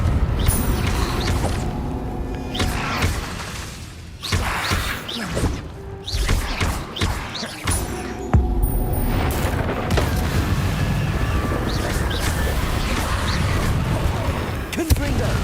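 Repeated Confringo blasting-spell explosions in Hogwarts Legacy on PS5, loud booming bursts recurring throughout amid continuous game noise and effects, with a voice speaking at times over the action.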